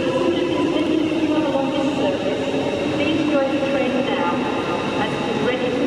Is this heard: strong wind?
no